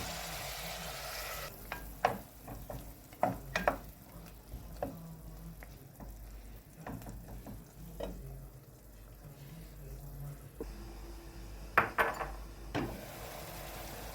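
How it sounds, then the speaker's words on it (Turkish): Cubed beef frying in a pot for Turkish çoban kavurma, a soft steady sizzle with repeated sharp scraping and stirring clicks from a utensil against the pot, moderately close and without talk. "Etimiz biraz kavruldu."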